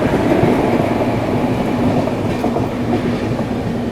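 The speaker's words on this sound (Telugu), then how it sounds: "లేడీ పైలట్ సైడింగ్లో తీసుకెళ్తున్నారు కాకినాడ తిరుపతి ఎక్స్ప్రెస్" The Kakinada-Tirupati Express is shunted into a siding, giving a steady, close rumble of a passenger train rolling along with continuous wheel clatter throughout, and no talking.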